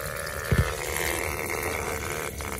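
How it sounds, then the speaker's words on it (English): Water from a hose runs through the heater core of a Honda CR-V, a steady, faint gurgling rush with a couple of brief splashy bursts near the start. "now what I'm doing here is taking a hose and running back and forth into the heater core"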